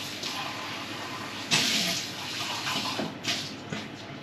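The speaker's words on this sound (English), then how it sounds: "I'm just going to give this a quick rinse." Running tap water rinses a kitchen jug, a steady hiss of flowing water with a louder splashing surge as the jug goes under the stream, then uneven splashes.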